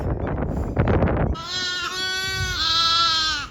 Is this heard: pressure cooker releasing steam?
no